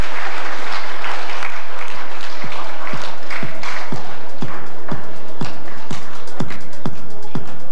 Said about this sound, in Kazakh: Ду қол шапалақтау.